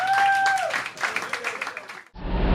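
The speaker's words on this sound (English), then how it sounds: "Give yourselves a round of applause." Audience applause at a small club on the night of a farewell antifolk show, broad clapping and cheering filling the first two seconds, then cutting abruptly into a different muffled noise.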